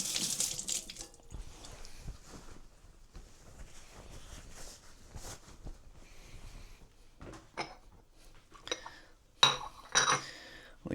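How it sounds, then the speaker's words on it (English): Kitchen tap running as a hand is rinsed under it at a sink, a soft continuous splash with scattered clinks of dishes and cutlery and a few louder knocks near the end. "Rinse my hand off."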